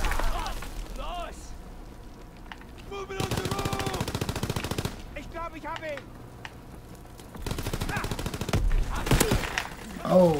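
Machine gun bursts rattle loudly in Call of Duty: WWII multiplayer team deathmatch, several separate rapid volleys with short pauses between, mixed with game effects and a player's voice talking.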